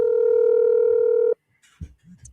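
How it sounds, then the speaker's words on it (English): A telephone call being placed: a steady dial tone holds for over a second, then breaks off, and a few faint clicks and soft bumps follow on the line, heard alone. "Let me see if he can answer the phone."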